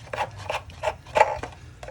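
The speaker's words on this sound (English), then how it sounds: "I'll just unscrew that." A drain fitting on a tank water heater is turned by hand, giving a series of close rubbing and gritty scraping strokes at a steady pace with no talking.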